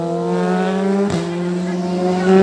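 A high-pitched Kawasaki 1000 superbike engine roars steadily, with a quick shift in pitch midway as the motorcycle rushes past, then the revving climbs again.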